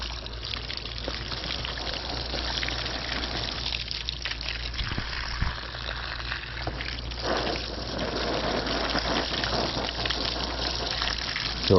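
Steady stream of water rinsing debris out of an automatic three-motor pool cleaner, a continuous close gushing and splashing that runs unbroken throughout.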